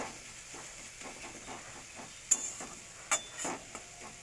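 Boiled leafy greens frying in a pan once their water has cooked off, a faint steady sizzle broken by a few sharp clinks and scrapes of stirring.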